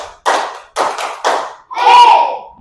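A classroom of students claps in unison on the teacher's cue. Several sharp, close group claps in quick succession are followed by a longer burst mixed with a shouted voice.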